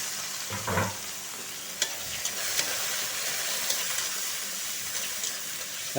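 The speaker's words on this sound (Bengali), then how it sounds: "3টে পেঁয়াজ মিডিয়াম সাইজের কুচো করে রেখেছিলাম, এর মধ্যে অ্যাড করে দিলাম" Chopped medium onions frying in a pan for a dhaba-style chicken and potato curry, a steady close sizzle with a brief stirring scrape near the start and light clinks, no talk.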